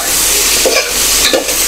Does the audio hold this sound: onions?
yes